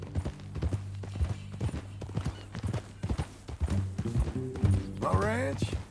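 Horse hooves clip-clop at a steady walking pace in the video game Red Dead Redemption 2, moderately close under talking voices, with a brief whinny near the end.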